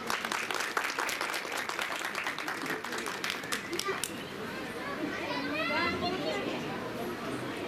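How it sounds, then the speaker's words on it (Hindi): Audience applause at a school annual function in Rajera, with dense clapping fading after a few seconds into crowd chatter and children's voices. "एक बार अपने लिए आप तालियां बजाइए प्लीज।"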